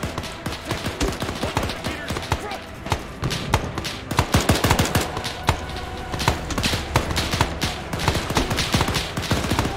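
Machine gun fire in the military shooter Arma 3, a loud, sustained run of rapid sharp shots with irregular rhythm across the whole stretch, someone speaking over it at times.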